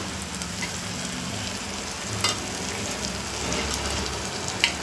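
Black masala spice mix, one spoonful, sautéing in a pan for masala rice with green peas, a steady close sizzle with faint stirring scrapes and a few small pops, no talking.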